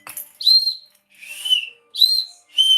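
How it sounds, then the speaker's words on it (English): A dog whistle blown in four separate high, clear blasts, each about half a second long with short gaps between, loud and alone with no talk over it. "The dog whistle worked today."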